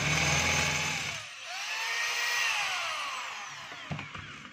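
A DeWalt D25033 rotary hammer runs in drill mode with a loud, steady motor whine whose pitch sweeps up and then settles, briefly dipping near the start and ending with a few clunks.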